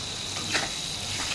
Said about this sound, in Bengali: দিয়ে দিলাম হলুদ গুঁড়ি, লঙ্কা গুঁড়ি, একটু জিরে গুঁড়ি দিয়ে ভালোভাবে কষিয়ে নেব।